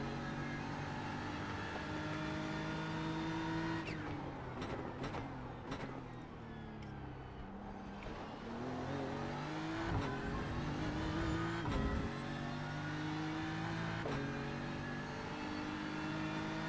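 A BMW race car laps the Spa circuit, its engine droning loud and steady, climbing through revs with quick gear-change breaks and a few sharp downshifts, with no voices over it.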